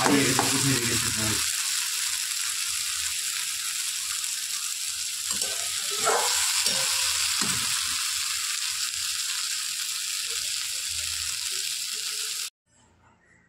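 Food fries in a small amount of oil, a continuous bright sizzle with a few louder bursts and stirring scrapes early on, holding steady until it cuts off abruptly near the end.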